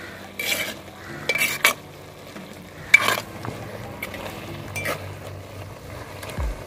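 Mookkirattai greens stir-fry in a pan, with a handful of scattered scraping strokes of a spoon against the metal over a faint, low background, clear and close, with no talking.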